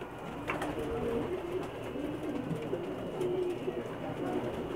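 Pigeons coo softly and repeatedly in Jeddah over a steady outdoor hum, with low throaty calls overlapping one another.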